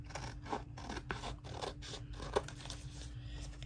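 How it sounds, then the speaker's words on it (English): Scissors trimming paper for a handmade fall journal with pockets and tucks, giving a run of soft, close snipping and rasping cuts at a quiet, fairly steady pace, with no talk. "I'll do a little trimming here."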